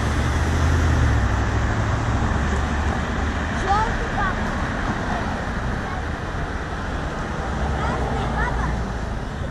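Car traffic rumbles along a street in Miami near the ocean, a steady low roar of passing vehicles with a faint beeping signal, while people talk nearby.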